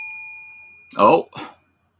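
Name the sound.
super chat bell being hit by accident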